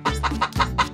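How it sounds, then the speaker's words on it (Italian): Hen clucking at close range, four short throaty clucks in quick succession, loud and alone with no talk. "Ma cosa mangia la signora gallina e suo figlio, il signor Pulcino?"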